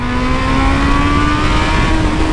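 A Yamaha XJ motorcycle engine runs nearby with a loud, steady droning hum and a slowly sliding pitch, continuous throughout without any talking.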